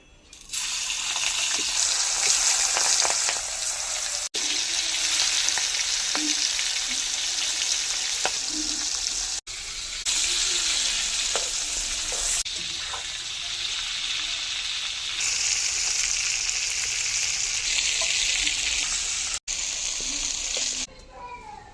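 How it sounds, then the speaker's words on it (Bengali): Prawns rubbed with salt and turmeric fry in hot oil, giving a loud, steady crackling sizzle for about twenty seconds, broken by a few abrupt cuts. "তেল গরম হয়ে গেছে। এবার চিংড়ি মাছগুলি ভেজে নেব।"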